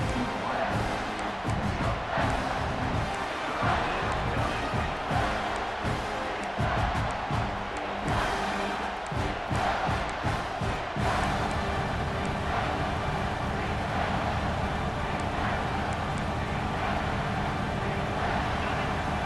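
Stadium crowd roar in the EA Sports College Football 26 video game, a dense, loud, sustained wash of cheering that swells and stays full throughout, with a commentator talking over it.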